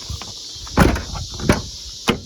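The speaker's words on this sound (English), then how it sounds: "Shut the door." Doors on a 2000 Ford F450 Super Duty truck: a solid thump as one is shut, followed by two sharper clunks and latch clicks, close by, over a faint steady background hum.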